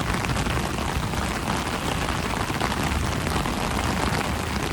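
Heavy monsoon rain pours down steadily during flooding in Karachi, a dense, unbroken roar that stays loud throughout without any voices.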